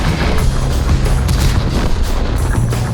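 Tank gunfire in an online tank battle game, a dense and continuous loud rumble of booms and distant shots across open ground, steady throughout with no pauses.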